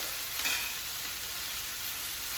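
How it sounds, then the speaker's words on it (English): Collard greens sauté with a pinch of salt in a pan, giving a steady, gentle sizzle that crackles on and on, with a brief stir or scrape near the start. "All right, so let's get this cooking down."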